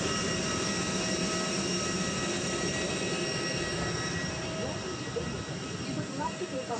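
A parked airliner at boarding roars with a steady broadband jet-engine hum that fills the whole stretch without a break, loud and continuous.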